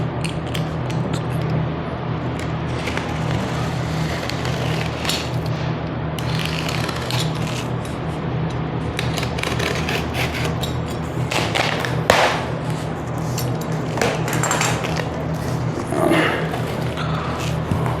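Unboxing a TSC TE 244 barcode label printer brings continuous close rustling, creaking packaging and small clicks and thuds as parts are handled, with faint talk mixed in.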